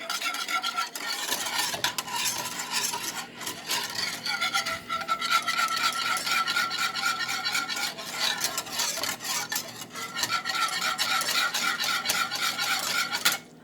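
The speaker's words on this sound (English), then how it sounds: "And the key is just constant stirring." A whisk works a thickening white sauce for macaroni and cheese in constant, rapid scraping strokes against the pot, close and steady with brief pauses.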